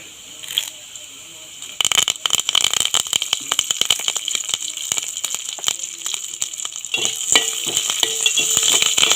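Dried red chilies and curry leaves hit hot oil in a pan and break into a loud, dense crackle and sizzle that builds and continues to the end, with brief rattles before it starts.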